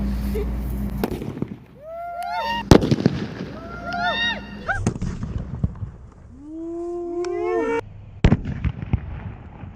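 A firecracker bomb set off on petrol outdoors gives a few sharp, loud bangs spaced across the stretch, mixed with rising whistling squeals and some background voices.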